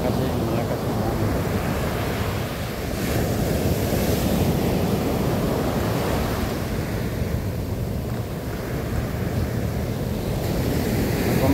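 Strong ocean waves surge steadily onto a beach in Zambales, a dense continuous roar of surf mixed with heavy wind buffeting the microphone, with no voices.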